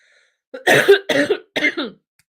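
A person coughs three times in quick succession, close and fairly loud, each cough harsh and raspy, followed by silence.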